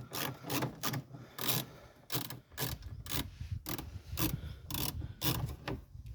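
A wrench turns Torx 25 screws on a Volkswagen T6.1 during a towbar install, close by with a steady run of rapid ratcheting clicks broken by short pauses, no voices.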